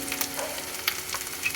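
Ginger-garlic paste with onions frying in a pan, a steady broadband sizzle with faint stirring clicks, close and moderately quiet, no voices.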